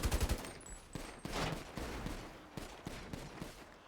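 Rapid gunfire in a video game, a burst of close automatic shots opening the moment, followed by scattered loud reports and impacts over a dense, busy background.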